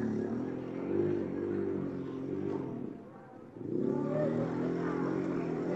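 A motorcycle engine revs hard and steadily as it pushes through flood water from an overflowing river in Masamba, a loud, continuous drone that dips briefly before surging again, with people shouting faintly in the background.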